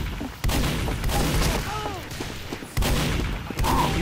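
Gunfire in Team Fortress 2, with loud bursts of rapid shots and booms over a dense, busy game soundscape, while a voice talks over it.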